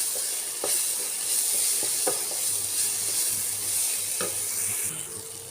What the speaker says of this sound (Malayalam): പൊടികൾ നന്നായിട്ട് പച്ചമണം പോകുന്നത് വരെ ഒന്ന് വഴറ്റി കൊടുക്കാം